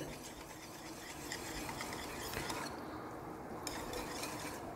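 A spoon stirs and scrapes through a bowl of yogurt garlic chutney with salt and garam masala, a steady, quiet, wet rubbing and clinking against the bowl with no voices.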